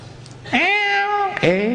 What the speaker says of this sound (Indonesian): Kucing lucu.